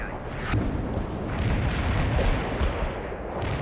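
Artillery strike explosions in the World in Conflict strategy game: a dense, loud, continuous rumble of overlapping blasts and booms that holds for several seconds with no pauses.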